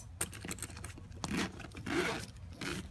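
A metal-hardware zipper on a JuJuBe Be Set large set piece used as a crossbody purse is pulled open, giving a few quiet, close raspy zipping strokes.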